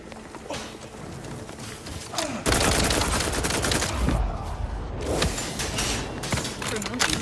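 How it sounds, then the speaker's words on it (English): Gunfire in the video game The Outer Worlds 2 crackles in dense bursts and rattling fusillades, loud and continuous through the middle, with a voice speaking over parts of it. "Who the hell is shooting me?"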